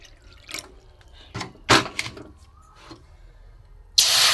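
Water poured from a small bowl into a pan on a gas stove while making semolina papad, heard as a few short splashes and drips. A louder rushing pour comes at the end, with quiet kitchen room tone between.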